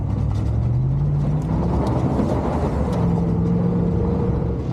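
A lifted 2004 Chevrolet GMT800 crew cab pickup with a Camburg 6-inch mid-travel kit drives along, giving a steady, loud low engine and road rumble with a faint rising tone.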